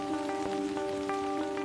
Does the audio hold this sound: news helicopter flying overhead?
no